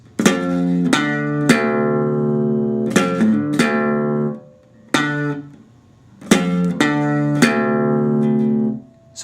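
Guitar notes from a blues riff are played in short groups, each plucked phrase ringing out before a brief pause. The tone is clear and close, with no talking.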